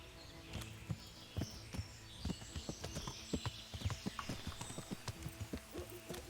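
A horse's hooves in the medieval game Kingdom Come Deliverance: a rhythmic run of crisp clip-clop footfalls, close and moderately loud, speeding up slightly, over faint ambient background.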